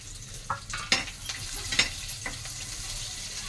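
Dried red chilies frying in a pan: a low, steady sizzle of hot oil with several sharp clinks and scrapes of stirring spread across the clip, fairly quiet and close.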